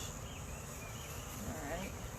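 A hive of honey bees hums softly in a low, continuous drone that stays faint and even throughout.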